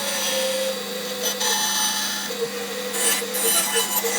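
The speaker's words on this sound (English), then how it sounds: "My bandsaw's starting to sound like fucking Darth Vader." A bandsaw cuts a spalted wood hollow-body PRS-style guitar body, a steady droning hum with a rough, raspy cutting texture that rises and dips over several seconds, fairly close and loud.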